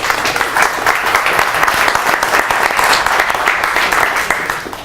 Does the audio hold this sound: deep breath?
no